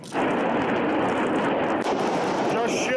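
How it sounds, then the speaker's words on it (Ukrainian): Grad multiple rocket launchers firing in eastern Ukraine, a dense, continuous roar of rapid launches that stays loud and unbroken for the whole stretch, with a brief dip near the middle. "Олег Ляшко знявши у відео на фоні стріляючих градів на сході України"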